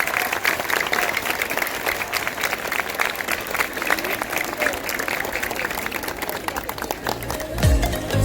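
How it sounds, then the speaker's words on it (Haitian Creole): An audience claps warmly for three visiting former students of a training centre, a loud, sustained, even round of applause from many hands that carries on for several seconds, with a little background chatter and a bump near the end. "Je vous demande de les applaudir chaudement."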